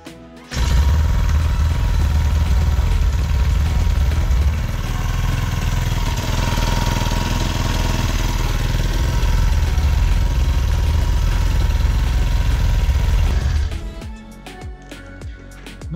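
A Kawasaki Z750 motorcycle engine fires up in a workshop after clutch repair work and settles into a steady, loud mid-pitched idle with mechanical clatter, running for about thirteen seconds before cutting off abruptly.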